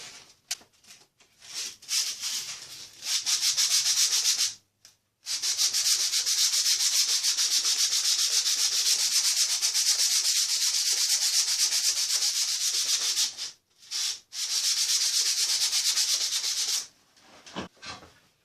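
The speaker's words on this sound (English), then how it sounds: "and go into a little bit of hand sanding," Wet 180-grit sandpaper is rubbed by hand along a hardened small utility knife blade, giving steady, close scraping strokes that run in long continuous stretches broken by a few short pauses.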